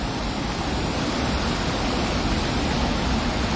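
Water pours steadily over a reservoir weir like a waterfall, a loud, dense, continuous rushing roar heard close up with no other sounds.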